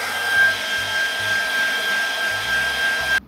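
A LESASHA hair dryer blows steadily, a constant airy whoosh with a thin high whine, close and loud until it cuts off abruptly.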